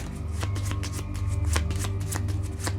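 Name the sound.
shuffling a deck of board game cards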